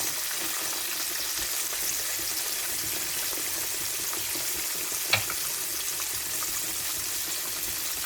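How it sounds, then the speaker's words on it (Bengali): Fish pieces fry in hot oil with a steady, even sizzle that fills the scene, close by, with one brief clink partway through and no talk. "তো এইভাবে আমি এখানে মাছটাকে ভেজে নিব।"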